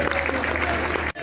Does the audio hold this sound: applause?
yes